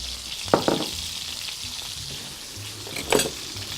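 Stuffed rabbit saddle rolls fry in a pan, giving a soft steady sizzle with a few brief louder crackles and spatters, moderately close, with no talking.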